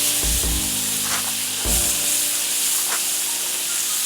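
Butter sizzling on a Camp Chef FTG600 griddle while cooking chicken fried rice, a loud, steady close-up hiss with a few knocks of a utensil near the start.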